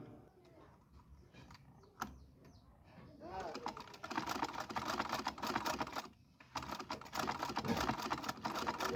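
A Singer sewing machine stitches after its tension nut is tightened, a rapid clattering run that builds louder from about four seconds, pauses briefly, then resumes, with someone speaking over the quieter start.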